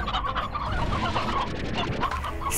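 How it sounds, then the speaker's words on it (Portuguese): Chickens in the video game Slime Rancher cluck continuously, with dense, close, overlapping clucks and no speech. "Olha quanta galinha."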